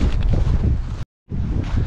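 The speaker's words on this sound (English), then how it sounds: "It is incredibly windy" Loud, roaring wind buffets the microphone in a steady rush, cutting out briefly for a moment of silence before gusting back just as strong.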